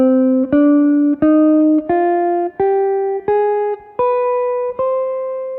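Guitar runs up a C harmonic minor scale an octave higher, eight plucked notes rising steadily at an even pace, each with a clear attack and ringing sustain, played alone without talk.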